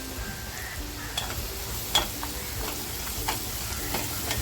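Homemade red masala and turmeric frying in oil, a continuous sizzle with spoon stirring and a couple of sharp clinks against the pan.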